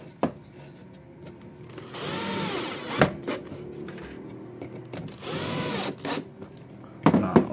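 A power drill drives 3 cm screws into plywood in two sustained whirring bursts, each ending as the screw seats, with sharp knocks and handling clatter of wood between them; close and moderately loud, no voices.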